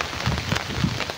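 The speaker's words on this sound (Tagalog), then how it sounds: "Ay oh, malakas pa rin ang ulan." Heavy rain pours down during Typhoon Kristine in the Philippines, a dense, continuous hiss of rain hitting the surface that stays steady and close throughout.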